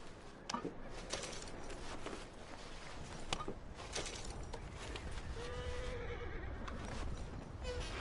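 Horses neigh and whinny in Red Dead Redemption 2, with a snorting call and scattered hoof-like knocks over a dense outdoor ambience, fairly faint and without speech.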